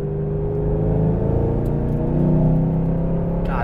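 A 2014 Shelby GT500 pulls hard under full throttle, a deep, loud engine roar climbing steadily in pitch from inside the car, sustained and continuous with no talking.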